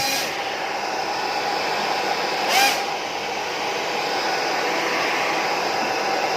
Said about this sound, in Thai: เราจะตัดในส่วนของพัดลมที่มันเป่าอยู่ตรงนี้